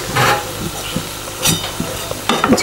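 Egg pakoras fry in hot oil and are flipped over: loud, close sizzling bursts with spatula scrapes and clatters at irregular intervals, rising sharply near the end.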